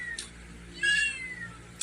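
Hungry cat meowing up close, one clear drawn-out meow in the middle with shorter faint cries around it over quiet room noise.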